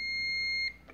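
Electrolux CM303 electric coffee maker giving a single high electronic beep that holds for most of a second before cutting off, fairly faint over low background hum.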